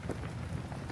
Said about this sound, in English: This rain is just on and on and on and on.